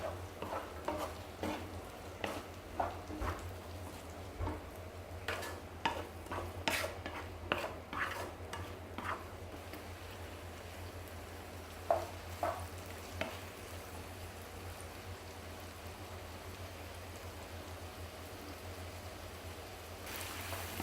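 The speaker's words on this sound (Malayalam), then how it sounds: "അപ്പോൾ നമ്മൾ സവാളയിലേക്ക് കുറച്ച് ഉപ്പ് ചേർത്ത് കൊടുക്കുക, ചെറുതായിട്ട് കുറച്ച് ഉപ്പ് ചേർത്ത് കൊടുക്കുക." Sliced onions with a pinch of salt frying in a pan, a faint steady sizzle with repeated soft scrapes and taps of a spatula, busier early and quieter later, over a low background hum with no speech.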